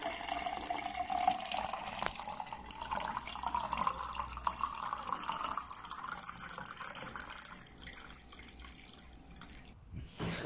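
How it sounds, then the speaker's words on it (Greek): Water runs from a tap into a sink in a steady, splashy stream, fairly quiet and close, with the flow thinning and stopping near the end as the tap is shut off. "Τρέχει, τρέχει, τρέχει το νερό"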